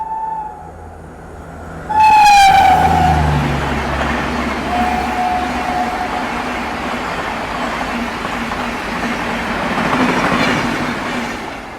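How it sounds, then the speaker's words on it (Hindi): Gatimaan Express train running from Delhi Hazrat Nizamuddin to Jhansi overtaking on the adjacent track, a sudden loud horn blast followed by a sustained close rumble and rattle of passing coaches with wheel noise. "पीछे से गतिमान एक्सप्रेस जो वो आ रही है दिल्ली हज़रत निजामुद्दीन स्टेशन से झांसी को जो जाती है"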